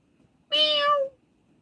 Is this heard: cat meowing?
yes